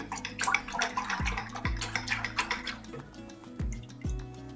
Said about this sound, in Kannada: ನಾನು ಇನ್ನೊಂದು ಸ್ವಲ್ಪ ನೀರು ಆ್ಯಡ್ ಮಾಡ್ಕೊಳ್ತಾ ಇದ್ದೀನಿ